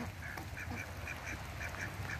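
Ducks by the water quacking repeatedly in short bursts, a small flock heard at moderate distance over faint outdoor background noise.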